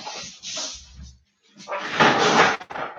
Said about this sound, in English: Gotta close the door